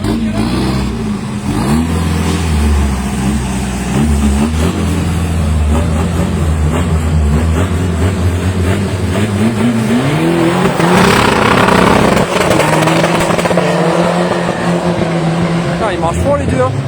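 Race cars, including a Fiat, accelerate hard in a 200m run battle, a loud, continuous engine roar with rising revs and gear changes that builds to a peak near the middle, heard from trackside under a commentator's voice.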